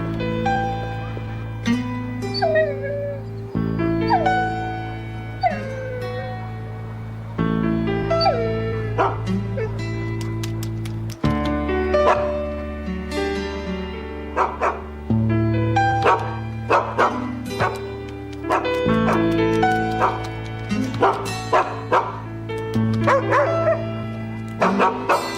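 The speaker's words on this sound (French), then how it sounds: "Calmez-vous, les chiens, tout va bien." Several dogs bark, yip and whimper in a continuous, overlapping chorus of close, loud calls with a steady low hum beneath, inside a dog pound or kennel in a crime drama scene.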